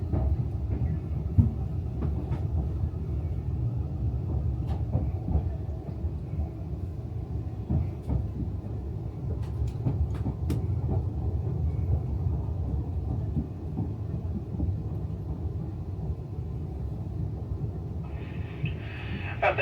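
Low, steady rumble of a British train interior while moving, with occasional clicks and rattles over a continuous deep drone.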